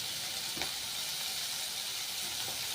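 Cluster bean vegetable sizzling steadily in a hot pan, a faint continuous hiss with a couple of soft stirring knocks.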